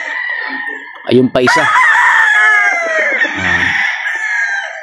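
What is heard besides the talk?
golden boy straight comb gamefowl rooster crowing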